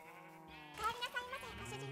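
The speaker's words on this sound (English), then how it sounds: "That sheep's in the cow pen. You're gonna pay, sheep, for getting out of your pen." A Minecraft sheep gives a few quick wavering bleats at close range, over a low background tone, with no talking.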